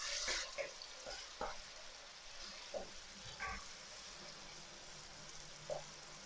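Tomatoes hit a hot pan of stir-fry cauliflower, starting a loud sizzle that settles into a steady, moderate frying hiss with occasional stirring clatter.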